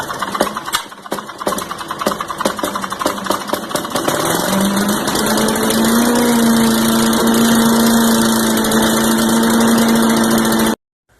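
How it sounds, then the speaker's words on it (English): A Garden Way chipper vac's Tecumseh 4 hp small engine starts with rapid sputtering, then settles into a loud, steady running hum that holds until it cuts off abruptly near the end. "Put some fresh fuel in it and start it up."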